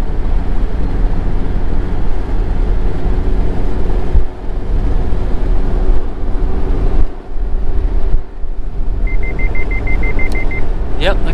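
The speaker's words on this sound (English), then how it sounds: "Yep, the car is beeping at me." A 2017 Mazda Miata RF's warning chime beeps in a quick regular series over loud engine and road rumble, near and steady, then stops.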